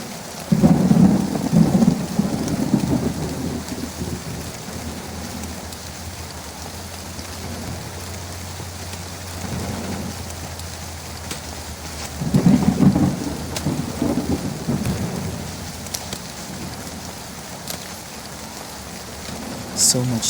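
Steady rain falls in a horror video game set at an abandoned house, with deep rumbles of thunder rolling in twice over a constant hiss.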